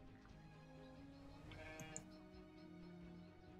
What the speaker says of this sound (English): I just heard that sheep.